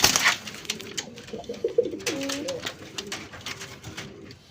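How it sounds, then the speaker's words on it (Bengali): Native Rajgolla pigeons coo softly at close range in short, low, throaty phrases, with light rustling and background clatter around them. "এটা হচ্ছে আমাদের দেশীয় রাজগোল্লা, পুরান জাতের রাজগোল্লা কবুতর"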